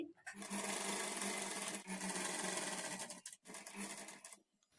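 A sewing machine runs in quick continuous bursts while double-stitching a blouse sleeve, its rapid needle chatter close and steady with a couple of brief pauses.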